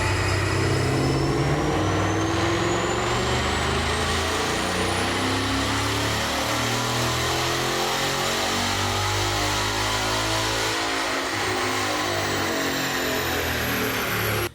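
A 2020 Ford Mustang GT Premium with Performance Pack 1, its 432-horsepower V8 droning steadily while driving, with low engine harmonics rising and falling under constant road and tire noise, continuous and loud with no talking.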